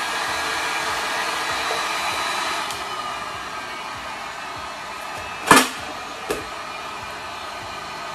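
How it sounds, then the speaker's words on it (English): A heat gun blows hot air onto a candle mould in a steady, fairly loud rushing hiss, broken by a sharp knock and a softer click near the end. "I'm gonna take the heat gun, I'm gonna heat it with heat"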